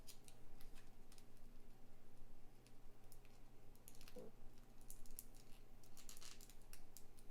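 Waxy paper wrapping being cut open during a traditional unboxing, giving a string of short, dry snips and crinkles over a steady low hum, with a louder rustle near the middle.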